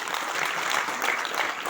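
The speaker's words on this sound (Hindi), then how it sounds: "ताली तो बजा दो।" A seminar audience at a direct-selling company event claps in a brief, steady burst of moderately loud, dense applause.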